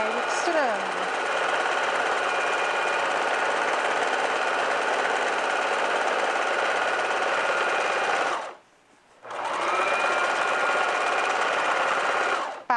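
A sewing machine runs in a steady, continuous whir while stitching a cushion cover, with a short pause near the end before the motor starts again; a voice speaks over it.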